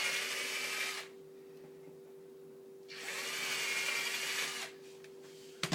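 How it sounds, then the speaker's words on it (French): A drill with a 4 mm bit boring two pilot holes while a hinge is fitted: two steady whirring bursts of about a second and two seconds, separated by a pause, over a constant low hum. "Vous prenez votre mèche de 4, vous faites 2 avant-trous."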